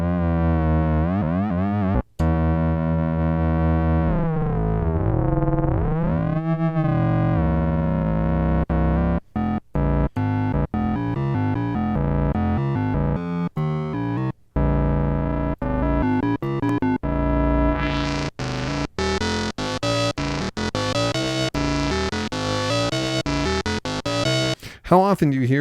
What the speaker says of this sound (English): you can modulate the filter with Oscillator 3 in audio